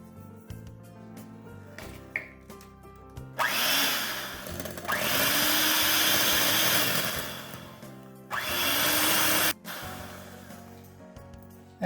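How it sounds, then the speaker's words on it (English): Electric hand mixer beating eggs with sugar for a plum cake, whirring loudly in two long bursts separated by a short pause, with quieter clinks and handling sounds before and between. "After beating the egg, I'm going to add 3/4 cup of sugar and then beat it again."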